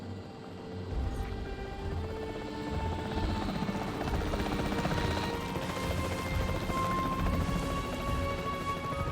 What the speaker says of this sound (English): tranquilizing it with the capture team chopper